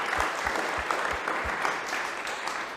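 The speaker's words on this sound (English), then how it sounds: "I think you all deserve a big round of applause" An audience claps for hackathon teams at an awards event, a steady dense round of applause at moderate distance, with one nearby clapper giving slower, heavier beats at the start.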